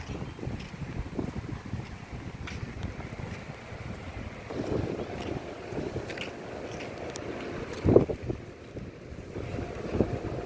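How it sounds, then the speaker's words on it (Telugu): Strong gusty wind buffets the microphone at the seashore, a steady low rumble with a louder gust near the end and faint surf beneath. "గాలి ఇసురుగా ఉంది"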